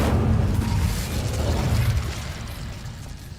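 A burst of fire from the Incendio spell cast in the video game Hogwarts Legacy, a loud low roaring whoosh with crackling that fades gradually over a few seconds, heard alone.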